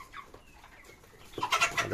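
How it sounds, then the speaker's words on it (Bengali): Chickens and roosters cluck softly at first, then a louder burst of clucking and squawking rises near the end. "দেখতে পাচ্ছেন যে মোরগ মুরগি আছে"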